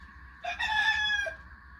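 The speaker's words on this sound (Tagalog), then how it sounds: "Napakasipag yan. Yung si Rooster." A rooster crows once in a backyard string bean garden, a clear, fairly close call of about a second that rises and holds before dropping off, with no talk over it.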